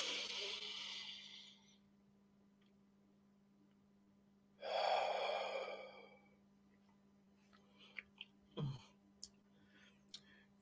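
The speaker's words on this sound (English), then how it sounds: "let's all take a deep breath together" Breathing exercise during a guided meditation: a long audible inhale and exhale, fairly close and soft over a low steady hum, followed by quiet clicks and a small mouth sound.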